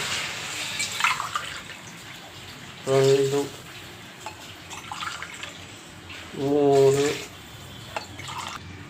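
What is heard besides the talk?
pouring water into rice pot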